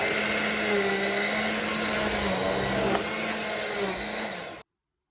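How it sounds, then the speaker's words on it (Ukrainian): A blender whirs steadily up close, its motor pitch dipping slightly as it purees pumpkin cream soup, then cuts off abruptly. "Тепер гарненько все збиваю блендером."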